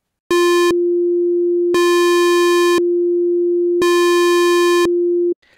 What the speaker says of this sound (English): Square wave loaded, I'll turn up the rate a little bit, and let's listen to it.